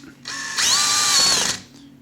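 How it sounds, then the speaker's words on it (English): A cordless drill driving a screw while installing a Kwikset SmartCode 914 lock whirs up close, speeding up then holding a steady high whine for about a second before spinning down. "I'm going to just drill it in, but not drill it in too much"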